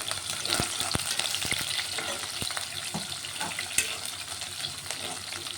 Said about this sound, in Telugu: ఇప్పుడు నేను ఉల్లిగడ్డలు వేసుకుంటున్నానండి అలాగే ఒక పచ్చిమిర్చి వేసుకుంటున్నాను